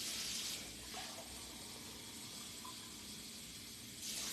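Hot water runs from a kitchen tap in a steady, hissing stream for oxtail preparation, louder at the start and end and fainter in between.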